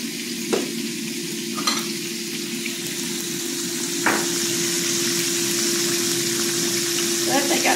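Chicken fingers fry in hot oil with a steady, dense sizzle, close and continuous, while a constant hum runs underneath and a few clinks and stirring sounds break in.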